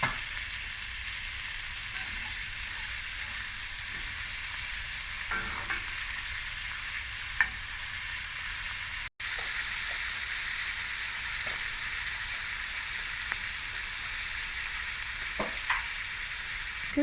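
Chopped beef rashes frying with onion in a hot pan for mushroom fried rice, a dense, constant hissing sizzle that holds steady, with faint scraping now and then and no talking.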